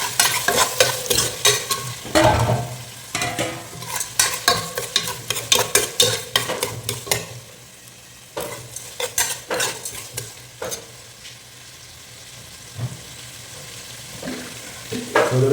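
Potato pieces and green chilli fry in a pan with a spoon stirring and scraping in bursts, each burst broken by sizzling pauses and sharp clinks against the pan.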